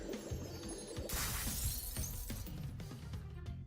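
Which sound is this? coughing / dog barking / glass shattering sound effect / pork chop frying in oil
glass shattering sound effect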